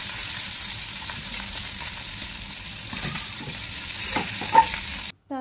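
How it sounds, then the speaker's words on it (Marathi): Mackerel (bangda) sizzle and crackle steadily as they fry on a hot griddle, a continuous close frying hiss with a few louder pops near the end. "हे बांगडे माझे दोन्ही बाजूनं चांगले भाजलेले आहेत"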